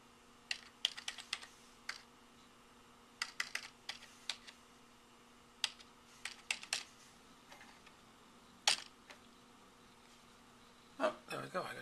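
A library card number goes in on a computer keyboard as a run of quiet, uneven keystrokes, near and fairly soft, with a louder cluster of clicks near the end.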